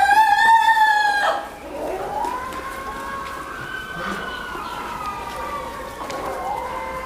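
A rooster on a Kadaknath chicken farm lets out a loud, close crow lasting about a second, followed by fainter, drawn-out crowing from other birds in the background.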